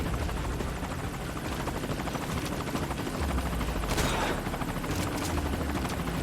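An enemy helicopter in the video game MGSV Ground Zeroes drones with a dense rotor roar throughout, joined near the middle by bursts of gunfire and sharp impacts.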